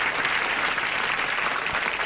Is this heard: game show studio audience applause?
yes